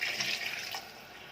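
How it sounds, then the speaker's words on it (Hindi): Water pours steadily into a cooking pot of masala for pulao or biryani, making a brief, close, splashing rush that softens slightly toward the end. "अब हमने इसके अंदर अपने चावलों के लिहाज से जो है वो पानी ऐड कर देना है"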